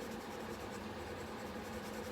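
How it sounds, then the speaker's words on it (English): Steady soft scratchy hiss of a soft 8B or 9B graphite pencil shading the pupil of a drawn eye on paper, close and continuous. "So now I'm going to start shading in the pupil. And you want this as black as possible, so I would use my 8 or 9B pencil"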